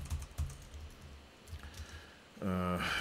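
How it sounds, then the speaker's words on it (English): Typing on a computer keyboard while entering a message into a chat room, a run of soft, close key clicks in a quiet room, with a louder burst of sound at the end. "Just typing this into the chat room."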